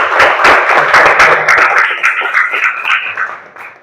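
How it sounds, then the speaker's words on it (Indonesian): A short burst of classroom applause from students, loud and close at first and then fading, with no talk over it. "Oke, tepuk tangan buat Rudi."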